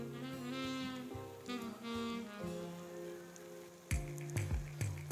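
Food fries in a pan on a stove for a breakfast dish, a steady sizzle running beneath tonal background sounds, with a few sharper clatters toward the end.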